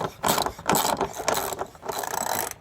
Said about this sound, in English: Put a ratchet on there. Tighten it up.